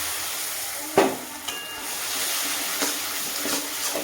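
Flour paste fries and gets stirred in an oiled pan: steady close sizzling with a few soft knocks and scraping strokes from the stirring, and no talk.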